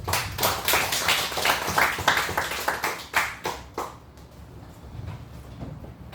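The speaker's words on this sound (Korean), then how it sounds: "박수로 함께." Rhythmic clapping from a church congregation keeping time with a worship song, steady bright claps that fade out near the end, with no talking.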